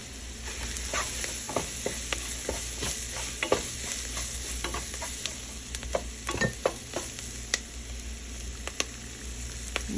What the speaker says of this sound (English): I'm just going to let the onions cook for a few minutes